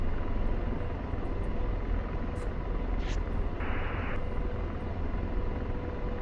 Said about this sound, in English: It's the Chinook across from us.